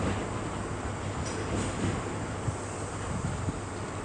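Electric multiple units pulling out of Edinburgh Waverley station, a steady broad rumble of wheels and traction with faint clangs and wind noise on the microphone, moderately distant.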